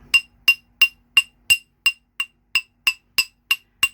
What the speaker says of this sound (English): you're going to take your chasing hammer, and we're going to hammer it to flatten it out a bit